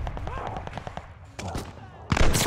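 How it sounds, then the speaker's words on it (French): Gunfire aimed at the player in the online shooter Call of Duty Vanguard: sharp, rapid bursts of shots and impacts, growing louder and denser toward the end, with a voice talking over the start. "Ça me tire dessus, mais je sais pas d'où."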